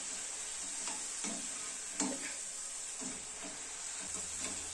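Okra (bendekayi) kurkure frying in hot oil, a faint, steady sizzle and hiss with a few soft scattered clicks and taps from stirring.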